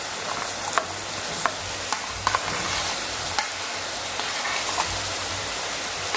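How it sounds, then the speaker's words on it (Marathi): Chopped bottle gourd (dudhi) sizzles in a hot pan with plenty of garlic while a spoon stirs it, a continuous frying hiss punctuated by several sharp scraping clicks, close and steady. "आता आपण ह्या दुधी घालूया।"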